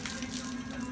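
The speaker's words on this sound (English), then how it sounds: "It's spitting out the drain line." Water spits and splashes out of the drain line of a Palomino HS650 truck camper with the water pump running, a brief steady hiss of gushing water heard close up with no talking.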